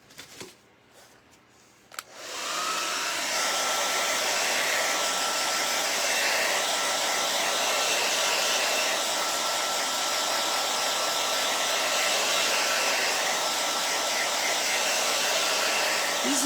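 A hair dryer blows hot air over fresh paint on a toy truck, switching on after a couple of seconds of quiet handling and then roaring steadily and loudly, close by, for the rest of the time.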